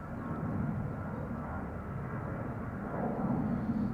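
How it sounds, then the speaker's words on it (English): An EasyJet airliner approaching at Amsterdam Schiphol Airport makes a low, steady engine rumble heard from a distance, faint and continuous, growing a little louder toward the end. "We have EasyJet Flight 22514 coming this way"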